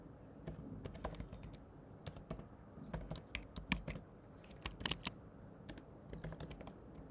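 Code typed on a computer keyboard, with quick irregular clusters of sharp key clicks and occasional heavier thumps, close and clear over a quiet room.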